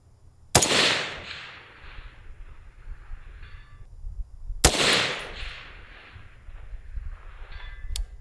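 Two loud sharp shots from a Cheytac USA CT10 rifle fired at a target on a range, each a sudden crack followed by a long fading echo, spaced about four seconds apart, with no talking.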